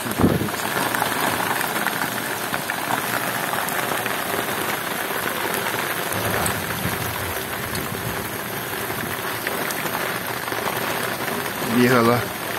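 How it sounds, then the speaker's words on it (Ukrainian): Heavy rain pours down steadily and loudly through a stormy day on a rural homestead in Kherson region, a dense continuous hiss of rain with faint talk underneath and a brief murmur near the end. "Вже дождя хватить, а воно й голиє, і лиє"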